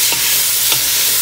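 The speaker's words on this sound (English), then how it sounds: "just stir in my garlic and onions" Garlic and onions sizzle in a pot of Jamaican chicken soup as they are stirred, a steady bright hiss of frying with two brief scraping strokes of the spoon, close and loud.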